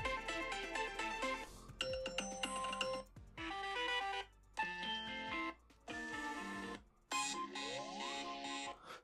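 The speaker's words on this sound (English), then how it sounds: "So these are just some of the new ringtones that Apple has added to iOS 17." New Apple iOS 17 ringtones play on an iPhone, a series of separate bright chiming melodic tones, each a few seconds long with short gaps between them, clear and alone.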